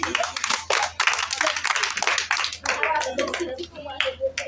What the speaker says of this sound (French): Applaudissez Ada, s'il vous plaît.